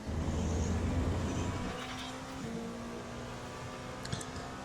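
A Dallara P217 LMP2 prototype in the iRacing sim racing game, on the gas down the Ullman Straight at Sebring, its engine droning steadily at moderate volume with a tone that rises and shifts as it pulls through the gears.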